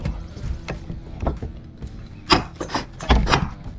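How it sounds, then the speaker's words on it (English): Pins are pushed through new Pond King dock parts in a short run of close scraping, rubbing and clunking bursts that grow louder toward the end. "Putting these pins through."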